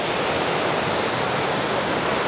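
A mountain waterfall in Pahalgam, Kashmir, rushes as a steady, loud, broadband roar of falling water that stays constant throughout, with no voices.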